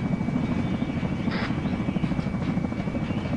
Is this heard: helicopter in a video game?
yes